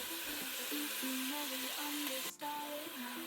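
Onions sizzle in a pan for a Mediterranean seafood stew, a faint, even frying hiss with a low hum running underneath it.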